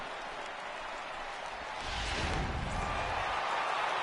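A home crowd cheers in the baseball video game MLB The Show, a dense wash of applause and roaring voices that swells louder about halfway through and stays full to the end.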